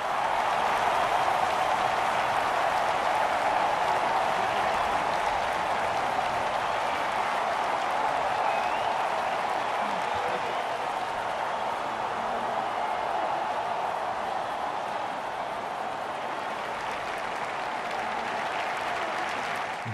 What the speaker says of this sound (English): A hat-trick and the crowd goes into a frenzy.